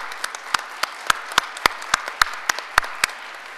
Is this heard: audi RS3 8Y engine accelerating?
no